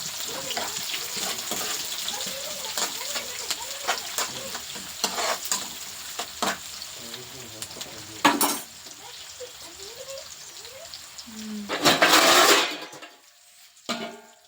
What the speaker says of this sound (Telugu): ఉల్లిగడ్డ అయితే మంచిగా బ్రౌన్ కలర్ వచ్చే వరకు గోలించుకోవాలి